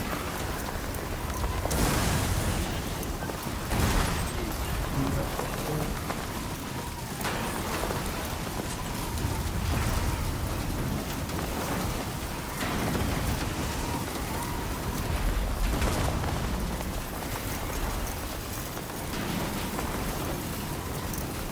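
Steady heavy rain from a storm in the video game Death Stranding 2, with low rumbling thunder swelling at intervals beneath a constant wash of downpour, loud and close, no voices.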